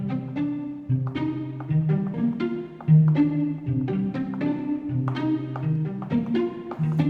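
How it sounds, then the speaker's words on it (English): Mandolin pluck from a Spitfire Audio Originals instrument plays a steady plucked melodic pattern, bright, clear notes repeating in close rhythm with no talking. "And finally, I have a mandolin pluck."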